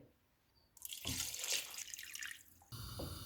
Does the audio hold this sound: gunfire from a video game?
no